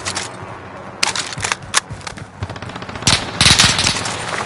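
Sniper rifle and rapid gunfire in a first-person shooter game, several sharp shots and bursts scattered across the span, loud and close, with a denser volley near the end.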